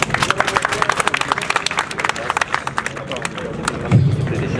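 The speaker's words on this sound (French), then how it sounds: "je vous demande de les applaudir" A crowd applauds at the final of a RAZBALL tournament, with dense, close clapping, some cheering and voices mixed in, and the claps thin out near the end.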